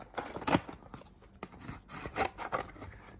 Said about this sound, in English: Grab your scissors and make some cuts, not perfectly around your circle.